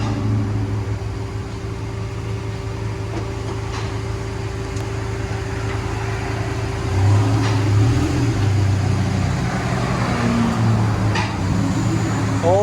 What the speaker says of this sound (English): Ram 2500 V10 muffler delete